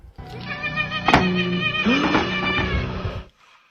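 A cat meows indoors in a cold room, a drawn-out, wavering call that rises and bends for a few seconds. It is close and fairly loud, with no talking, then breaks off into near silence.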